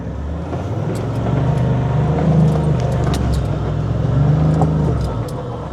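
A Toyota Land Cruiser 79 series engine drones and labours while crawling offroad with its diffs open, a steady loud rumble that swells as the throttle rises, heard from inside or near the vehicle, with no talking.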